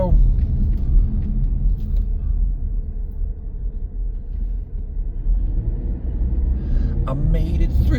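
A car drives through traffic in Chatham, its steady low engine and road rumble filling the cabin continuously, with a few brief clicks and rattles near the end.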